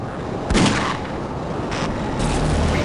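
Gunshots in Half-Life: Opposing Force, a few loud sharp blasts spaced apart over steady game background noise, close and punchy with no talk.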